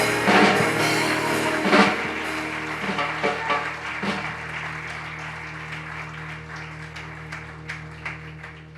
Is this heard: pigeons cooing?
no